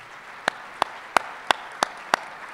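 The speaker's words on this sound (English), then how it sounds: "Let's give another big round of applause for all the award winners." Slow, isolated claps at an academic awards ceremony, six sharp, evenly spaced hand claps standing out over a faint room hum, with no talk.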